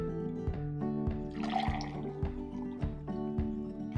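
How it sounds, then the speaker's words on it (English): Hot water pours into a glass in a short, gentle trickle, with a faint liquid splash under a steady electrical hum and regular soft thumps. "by filling 1 glass with hot water"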